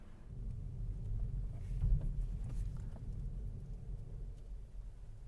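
A 2025 Hyundai i30 with a 1-liter petrol engine driving on the road, a steady low engine and tyre rumble heard from inside the cabin, quiet and even throughout.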